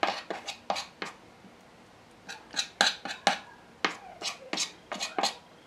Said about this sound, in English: So I'm getting right into the corners, making sure we're mixing right in there.